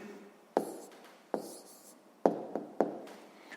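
A math answer is written down by hand, giving a handful of sharp pen taps and short scratchy strokes on paper, close and quiet, spaced irregularly with silence between.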